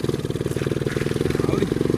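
A small 50cc motorcycle engine chugs close by in a fast, even pulsing beat, rising slightly as it is throttled, with a slight clattering edge. Nobody speaks over it.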